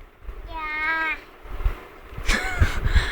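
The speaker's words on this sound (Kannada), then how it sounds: "ಕ್ಯಾಟ್ ಅಲ್ಲಿ ಕ್ಯಾಟ್" A toy cat gives a clear electronic meow of about a second, followed by softer thumps and a second, shorter mewing tone, with a child's play going on around it.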